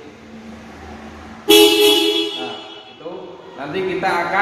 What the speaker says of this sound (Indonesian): Jadi Toyota Agya ini klakson awalnya itu suaranya seperti ini.